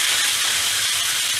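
Beef pieces sizzle steadily while browning in a pot for boeuf bourguignon, a loud, continuous close-up hiss with no pauses.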